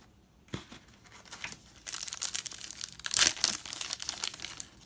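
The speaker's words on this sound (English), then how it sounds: "Some of these packs are harder to open than others." Foil-wrapped 1991 Score baseball card packs are torn open up close, with sharp ripping and crinkling wrapper sounds in quick bursts that grow louder and busier after a quiet start.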